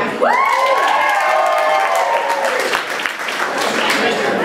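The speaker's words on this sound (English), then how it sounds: "by round of applause, who loves camping?" Comedy club audience breaks into loud, sustained applause with cheering and a few whoops, a dense crowd roar filling the room close by, with some voices shouting over it.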